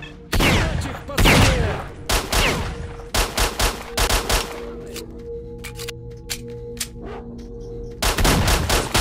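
Video game gunfire in STALKER: repeated loud automatic bursts and single shots close by, with short pauses and a brief tonal hum between the volleys.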